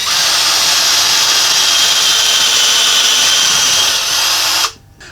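Power drill with a smaller bit boring steadily into wood, a loud continuous high whine for nearly five seconds before abruptly cutting off.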